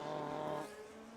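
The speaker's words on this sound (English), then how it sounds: "You can hear that engine roaring down the pit lane." Race car engine in a racing game, a loud sustained roar that drops off sharply about halfway through as the car moves down the pit lane, heard alone with no voices.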